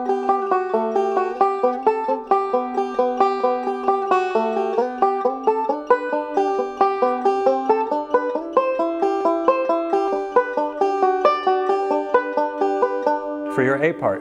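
A 5-string banjo picks diatonic thirds over chord changes in quick, even, bright plucked notes at a steady rhythm. The playing is close and clear, and a brief scrape of handling noise comes at the end.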